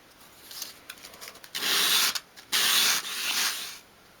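A small wooden piece for a dolls house shelf is swept by hand across sandpaper at a 45-degree angle to bevel its edge, giving close, loud, hissing rasps in long strokes with short pauses between them.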